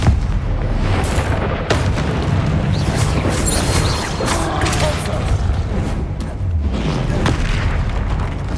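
Confringo spell explosions in the video game Hogwarts Legacy, repeated booming blasts and crackling bursts layered over dense game noise and a continuous soundtrack.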